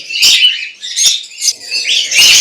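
A caged male pet bird at the Mirpur bird market gives bright, sharp chirping calls in about four quick bursts, loud and close, with no talking.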